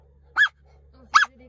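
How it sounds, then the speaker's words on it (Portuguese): A dog barks twice outside, a short sharp bark followed by a second one, over a quiet low hum. "Eles estão escutando o cachorro lá fora?"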